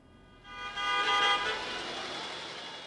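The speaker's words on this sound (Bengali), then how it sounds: "বরিশালের রূপাতলী বাস স্ট্যান্ড অপ্রয়োজনে বাজছে হর্ন।" Vehicle horns blare in a sustained, loud chorus at Rupatali bus stand in Barishal, Bangladesh, overlapping tones swelling after a moment and holding steady against a background of street traffic.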